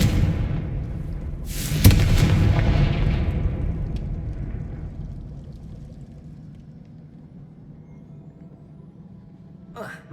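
A fire-blasting Confringo spell bursts in Hogwarts Legacy with a loud, sharp boom near the two-second mark, then a heavy rumble that slowly fades over several seconds, with a faint click at the end.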